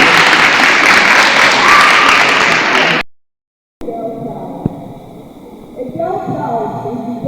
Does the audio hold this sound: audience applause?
yes